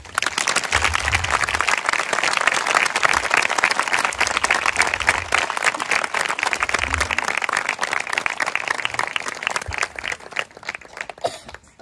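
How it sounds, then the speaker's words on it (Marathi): An audience claps together in a dense, continuous burst of applause that stays loud and steady for several seconds before thinning out near the end, with a few low thumps mixed in. "चला, पिता पुत्र पवित्र आत्म्यासाठी टाळ्या वाजवा."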